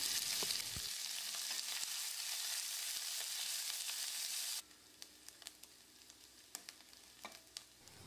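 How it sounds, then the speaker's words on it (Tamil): Two large sliced onions sizzle and sauté in hot oil for parotta kurma, a steady frying hiss that drops suddenly quieter partway through, followed by small scattered crackles. "வெங்காயம் கண்ணாடி பதத்துக்கு வதங்கினா மட்டும் போதும்"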